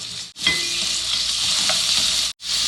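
Chicken going into hot olive or vegetable oil with browned onions, a loud, steady, close sizzle that holds for about two seconds, cut briefly once, with faint clinks of a utensil.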